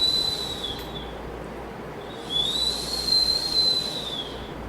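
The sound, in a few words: whistled imitation of a bird sound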